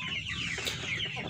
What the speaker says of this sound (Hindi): बहुत हैवी साइज़ मुर्गा है।